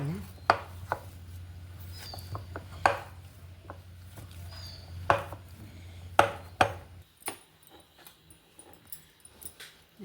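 Knife chopping through finger millet sweet dough for Andhra-style gavvalu, cutting it into long pieces on a board, a series of sharp, irregular close knocks with a low background hum that drops out partway.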